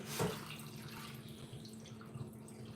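Sea moss gets a second wash in water, a faint, quiet swish and trickle with one small splash at the start and nobody speaking.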